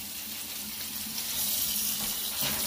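Lukewarm tap water runs steadily from a faucet over food being cleaned and rinsed, a continuous close splashing hiss that swells slightly toward the end, with no voices.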